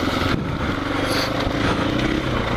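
A KTM 500 EXC-F dirt bike engine on a trail, a loud, close, continuous buzzing drone that rises slightly in revs, with no talk over it.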